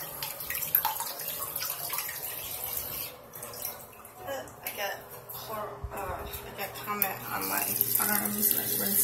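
Tap water runs steadily into a bathroom tub or sink during rinsing, a continuous splashing hiss at moderate level with intermittent speech and some clatter over it.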